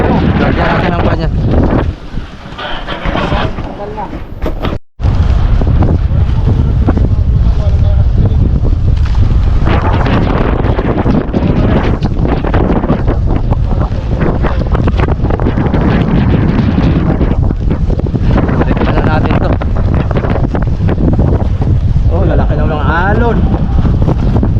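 A small boat battered by wind and six-foot waves in a squall at sea, with loud continuous wind roar buffeting the microphone and rushing water throughout, a brief dropout near the start, and people talking over it.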